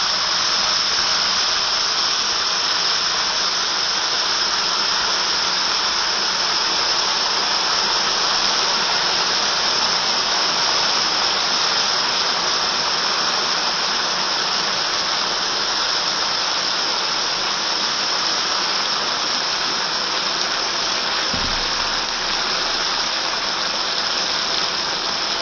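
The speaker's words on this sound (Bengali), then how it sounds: "এবারে তাতে আগে থেকেই মিক্সিতে পেস্ট করে রাখা মশলাটা দিয়ে ভালো করে কষে নিতে হবে" Ground spice paste, blended in a mixer, fries in hot oil over tempered whole cumin seeds for a coconut and pointed gourd curry. It gives a steady, even hiss and sizzle that lasts throughout without a pause.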